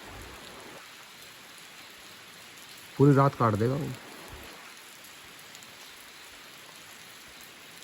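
Rain falling at night in the jungle of Jim Corbett National Park near Taya Village, a steady soft hiss of drops throughout, with someone speaking briefly in the middle.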